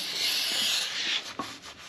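Steady scrubbing of the splines and threads on a bull gear during sprocket work on a 1939 Caterpillar D4 crawler tractor, a close, continuous rough rubbing that eases off with a few short scrapes near the end.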